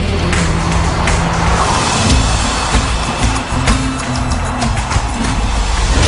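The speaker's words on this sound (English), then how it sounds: "Two super fast laps show Ghosn how the Porsche performs." A Porsche sports car runs fast laps on a track, producing a loud, steady engine roar with rumble and some tire noise that stays constant throughout, heard alone without talk.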